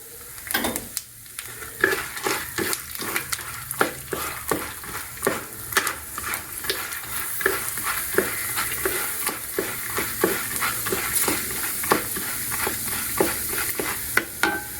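Bengal gram sizzles and fries in hot oil for lemon rice (chitranna), with repeated scraping stir strokes and light clinks of a spoon against the pan, close and steady throughout.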